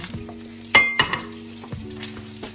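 Salt and pepper are stirred into a tomato sauce in a pan, a spoon scraping and clinking against the metal in a few distinct strokes over a soft sizzle, close and without talk.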